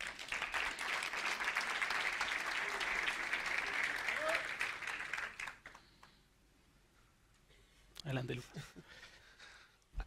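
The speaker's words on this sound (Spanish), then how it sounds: "Les pido un fuerte aplauso" A conference audience applauds loudly and steadily for several seconds as a speaker is welcomed, then the clapping fades into quiet, with a voice speaking briefly afterward.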